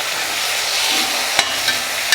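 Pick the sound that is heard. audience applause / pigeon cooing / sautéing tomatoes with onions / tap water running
sautéing tomatoes with onions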